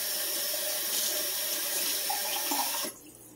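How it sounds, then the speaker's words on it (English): Tap water runs steadily into a jar to rinse out leftover meat while cooking chicken and dumplings, a continuous close splashing rush that cuts off abruptly near the end. "I'm going to go ahead and get a little water to rinse that out"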